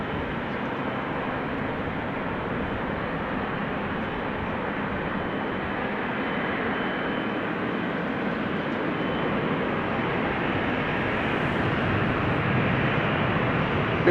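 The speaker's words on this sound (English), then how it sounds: "Meanwhile, 737 from KLM is taking off from 18 left" A KLM Boeing 737 takes off from runway 18 left at Amsterdam Schiphol, a steady broad jet roar that holds at an even level throughout, swelling slightly near the end, with no voices.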